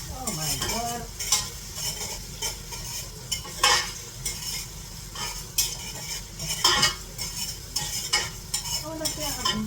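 Food frying in a pan, continuous sizzle with frequent stirring scrapes and utensil clinks against the pan, close and steady for the whole stretch.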